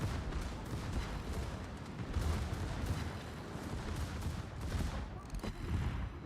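Warship guns boom in a naval battle video game, dense rolling salvos and distant blasts layered continuously over a rumbling backdrop.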